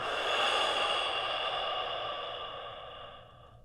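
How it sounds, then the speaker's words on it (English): A long, steady exhale during a yoga breathing flow, a broad airy breath sound that holds for a few seconds and slowly fades, with no talking. "And out of your chest, exhale."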